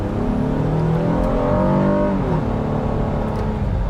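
A 2022 Honda Pilot Elite SUV accelerating in sport mode, its engine note rising steadily with harmonic bands climbing in pitch, loud and continuous from inside the cabin.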